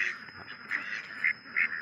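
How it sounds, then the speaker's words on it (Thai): A flock of male ducks on a farm, with several raspy quacks in an uneven rhythm, close and fairly loud over a quiet background. "เป็ดชุดนี้เป็นเป็ดตัวผู้ทั้งหมดแล้วครับ"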